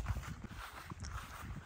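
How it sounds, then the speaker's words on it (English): Footsteps in camp shoes crunch along a trail in a remote Banff backcountry camp, a soft, uneven walking rhythm heard close and fairly quiet over faint outdoor ambience. "so you don't have to listen to me walk in my camp shoes"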